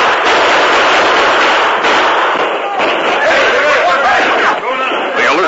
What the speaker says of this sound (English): The alert soldiers responded quickly, firing their hard-hitting carbines at the flashes of the outlaws' guns.